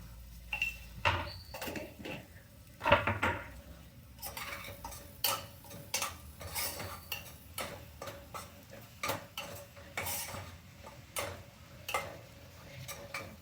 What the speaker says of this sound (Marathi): मस्त एक स्टर द्यायचा